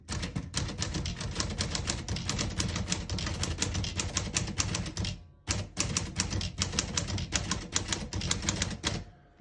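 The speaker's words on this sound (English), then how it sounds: "Beautiful typing machine" Rapid, steady clacking of keys on a 1938 Corona Standard portable typewriter, struck in quick succession, with a brief pause midway before the typing resumes at the same brisk pace.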